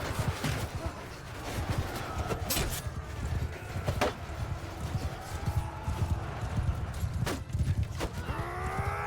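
Horses in a Mount & Blade II: Bannerlord battle with horse archers: rapid clip-clopping hooves thud continuously through dense battle noise, punctuated by sharp clashes and a brief whinny near the end, with no clear talk.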